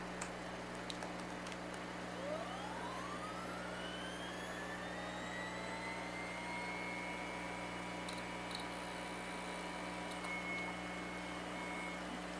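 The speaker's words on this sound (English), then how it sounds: "Now, what you just heard was the hard drive spinning up to power." An IBM 20 GB hard drive spins up, picked up electromagnetically through a pickup coil. It gives a steady electrical hum with a faint whine that rises smoothly in pitch and then holds level, heard alone.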